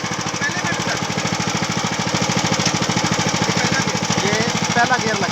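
A two-wheel wheat and rice reaper machine runs in first gear, its small engine chugging in a fast, steady, loud rhythm close by, moving forward without cutting.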